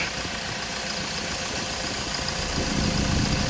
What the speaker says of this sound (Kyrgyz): мотор жакта сонун болуп иштеп турат